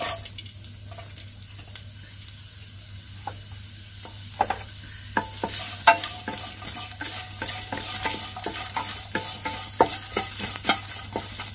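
Green chillies and onion frying in a pan with mustard seeds and curry leaves, heard as steady sizzling under repeated scraping and stirring clicks. The frying grows busier and louder toward the end.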